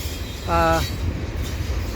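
A CP eastbound freight train with container stacks rumbles past at Dorval, giving a steady low roar with a brief tonal horn-like or squealing note partway through.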